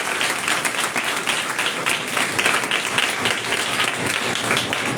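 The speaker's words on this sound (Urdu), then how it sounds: "آئیے سجدہ خدا کے لیے زوردار تالیاں دیں" A church congregation breaks into loud, sustained applause for God, a dense roar of clapping hands filling the room evenly from start to finish.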